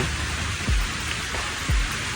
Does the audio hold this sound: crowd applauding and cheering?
no